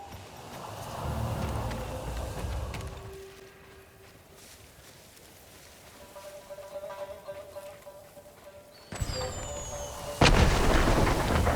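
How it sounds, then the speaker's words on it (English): A signal cannon fires in the samurai action game Ghost of Tsushima: after a quiet stretch of faint ambience, a sharp loud blast erupts and is followed by a heavy rumbling boom near the end. "Set off the signal cannon."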